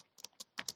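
Keys click on a computer keyboard in a quick, close burst of six or seven sharp taps while someone types code, with no talking.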